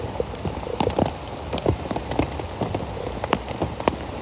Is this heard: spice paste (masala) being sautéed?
no